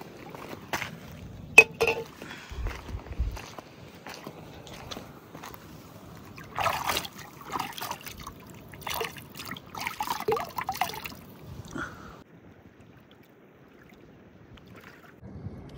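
River water laps near barrage gates in Andhra Pradesh beside a moored boat, quiet and irregular, with scattered knocks, splashes and trickles and no voices.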